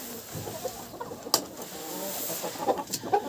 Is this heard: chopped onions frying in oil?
no